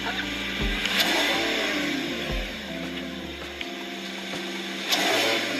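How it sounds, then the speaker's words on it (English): A powerful V12 supercar engine in sports mode revving in short bursts, rising and falling several times up close, with a brief voice in the background. "I've turned it into sports mode so we can rev a tiny bit."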